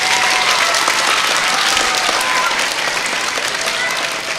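Loud, sustained audience applause at an elementary school 4th and 5th grade chorus event, a dense crowd of clappers with faint voices mixed in, tapering slightly at the end.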